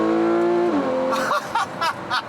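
A 2015 Porsche 911 Carrera S engine revs hard from inside the cabin, a loud rising mechanical wail that climbs toward redline, drops as it shifts, then pulses in short bursts with some road noise.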